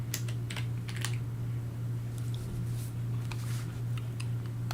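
Steady typing on a computer keyboard, with irregular clicks of keys over a constant low electrical hum, fairly close and moderately loud, with no voices.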